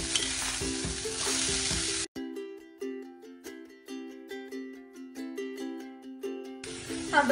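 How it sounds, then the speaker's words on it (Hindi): Onions and capsicum sauté in a pan over a medium flame, a steady broad sizzle broken by a short pause and then a run of rhythmic stirring scrapes and taps, with the hiss returning loudly near the end. "So I'll be adding capsicum into it."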